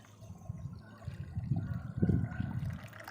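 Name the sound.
pouring horse gram cooking water into rasam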